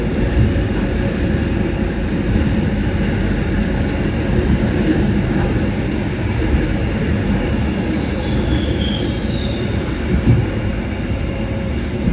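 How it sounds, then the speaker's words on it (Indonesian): Steady low rumble of a moving night train between Jakarta and Surabaya heard from inside the rearmost executive carriage, continuous and even, with faint rattles and a soft high squeal. "saat ini saya berada di kereta eksekutif 8, rangkaian yang paling belakang sendiri ya"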